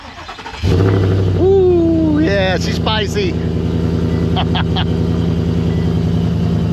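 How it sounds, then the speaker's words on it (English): Cold start of a 600 hp Fox Body in a 2,500 lb car: the engine catches near one second and settles into a loud, steady, lumpy idle that runs to the end, with excited voices talking over it. "We need to do a cold start."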